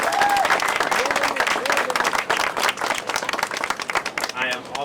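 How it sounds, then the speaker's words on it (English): Crowd applause at an outdoor farmer's market in Winooski, dense, lively clapping from many people that stays loud throughout, with a few voices and whoops mixed in. "So if everybody could give him a big round of applause."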